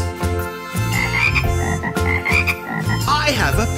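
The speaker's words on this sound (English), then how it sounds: "It's a frog." A frog croaks repeatedly over the bouncy backing music of a kindergarten song about pets, the croaks loud and rhythmic throughout.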